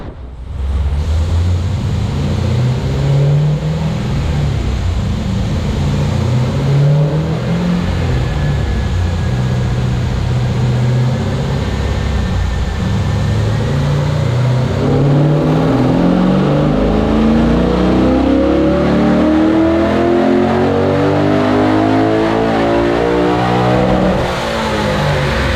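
An LS3 V8 swapped into a BMW E90 runs on a dyno, droning steadily before climbing in a long, loud rev sweep toward 7,500 rpm near the end.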